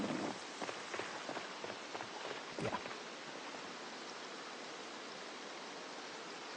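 Steady rain hiss in the video game Project Zomboid, a constant broadband wash with a few louder patters early on, playing alone without voices.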